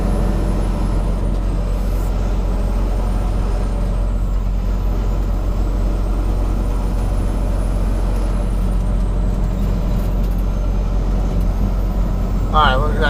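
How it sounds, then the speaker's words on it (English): Trucks rumbling past near a delivery stop, a steady loud engine and road drone throughout with a brief air-brake hiss near the end, as a driver talks over it. "Alright, we've got 2 trucks over here."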